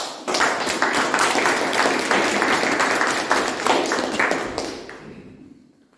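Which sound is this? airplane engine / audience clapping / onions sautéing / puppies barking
audience clapping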